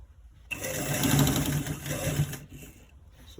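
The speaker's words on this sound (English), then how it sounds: "We are stitching it on top all around to the end parts" A sewing machine stitches around a fabric V-neck in one steady, fast-running burst of about two seconds, then stops abruptly and quiet handling follows.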